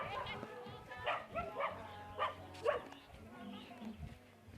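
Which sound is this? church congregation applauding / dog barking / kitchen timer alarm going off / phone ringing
dog barking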